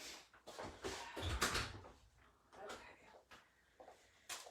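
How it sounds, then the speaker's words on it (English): A door is opened during a metal-antiquing project, giving a short creak and bump amid scattered handling noises, with a louder clunk near the middle and another at the end. "Okay, I'm gonna open the door really quick."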